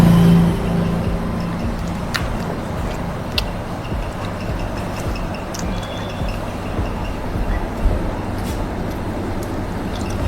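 A train rumbles steadily past the Motiram Adda railway crossing, with a continuous broad roar and rattle and a few faint squeaks and clanks throughout.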